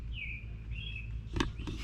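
A rescued seabird gives a few thin, high chirps, faint and close, with a brief rustle near the end over a low steady hum.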